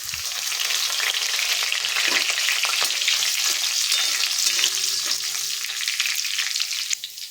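Green chillies and curry leaves sauté in hot oil for a mung dal dish, giving a steady, close, bright sizzle that holds without a break for several seconds, with no voices.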